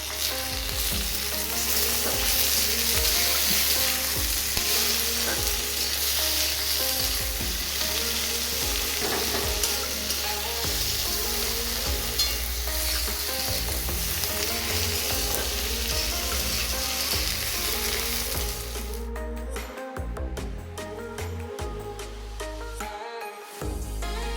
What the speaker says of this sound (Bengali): ভেজে রাখা পেঁয়াজগুলোর উপর কেটে রাখা টমেটোগুলো দিয়ে দেবো।